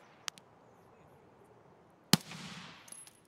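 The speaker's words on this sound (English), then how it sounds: "He's shooting at those guys that just ran past." Gunfire in Escape from Tarkov: a sharp, distant shot early on, then a loud, close crack with a brief echoing tail, over quiet background.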